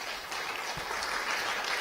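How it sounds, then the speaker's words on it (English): An audience at an innovation café talk applauds the presenters, a short burst of steady, dense clapping at moderate volume. "Give a big applause for Jeroen and Jéssica."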